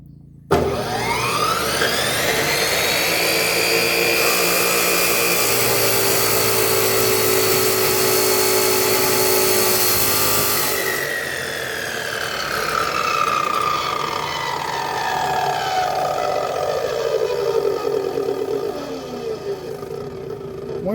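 A Ridgid 14-inch abrasive chop saw cuts through metal with a loud, sustained whining roar that rises as it spins up, holds through the cut, then winds down in a falling pitch near the end.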